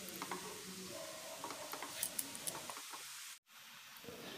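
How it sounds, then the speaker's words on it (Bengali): Grated carrot fries in ghee for halwa, giving a soft, steady sizzle with light scraping stir taps throughout, faint and close, briefly cutting out near the end. "দিয়ে একটু ভালো করে ভেজে নিচ্ছি।"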